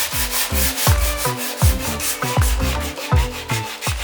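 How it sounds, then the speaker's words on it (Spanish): Rhythmic rubbing of sandpaper on wood, close and loud, with repeated back-and-forth strokes about twice per second and no talking. "¿Y hasta qué punto vamos a lijar la madera?"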